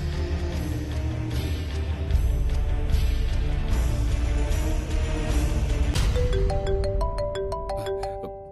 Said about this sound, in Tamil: என்னது பக்கத்திலே ரிங் ஆகுது?